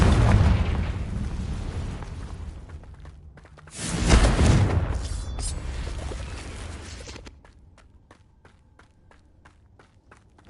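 A Confringo blasting spell in the Hogwarts Legacy video game, with a loud, rumbling burst peaking sharply in the middle amid dense game noise, then fading into quieter ticking sounds.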